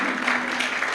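A church congregation claps together, a brief steady burst of applause filling the room.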